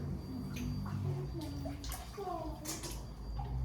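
Water pouring and splashing onto drying pottery clay in a soft, continuous wash, with faint voices murmuring in the background.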